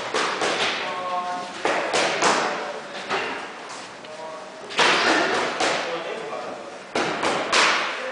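Boxing punches land on pads in a gym, a series of sharp smacks and thuds in irregular bursts, roughly one every second or so, loud and close, with a trainer calling out instructions in between.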